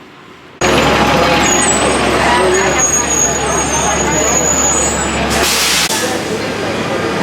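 A tour bus pulls up at Colonial Williamsburg, its engine rumbling close and loud with a long steady hiss of air brakes, ending in a sharp release burst near the end.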